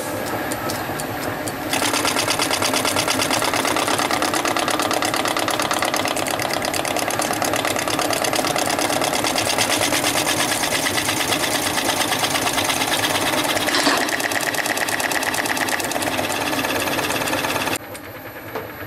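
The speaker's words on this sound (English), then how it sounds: "I'm going to run a cut along there just to face it up." A metal lathe takes a facing cut across a boiler pattern, giving a steady, loud mechanical whir with a fine ringing chatter that runs almost unbroken for about sixteen seconds before the machine noise drops away.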